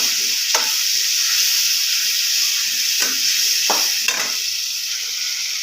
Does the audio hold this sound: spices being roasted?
yes